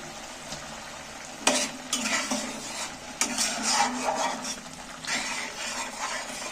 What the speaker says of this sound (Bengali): এবার একটু আলুগুলোর সাথে একটু নেড়ে চেড়ে নেব